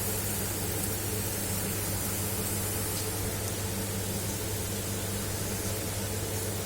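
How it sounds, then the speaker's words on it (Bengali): Beetroot paste frying in a pan gives a steady, even hiss of sizzling that holds at the same level from start to finish, with no voices. "জিনিসটা ভাজা ভাজা হয়ে গেছে"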